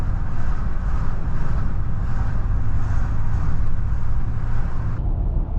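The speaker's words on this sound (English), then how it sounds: "come across the trucker convoy coming out of California" Heavy trucks in a convoy heading out of California roll along a highway, their loud, steady road and engine roar droning continuously close by with wind buffeting throughout.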